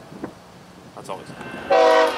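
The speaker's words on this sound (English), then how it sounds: "here comes another train. This is an intermodal westbound towards Bedford Park" A westbound intermodal freight train approaching at a railfest in Fostoria, with quiet rail rumble and voices before a loud, sustained horn blast sounds near the end.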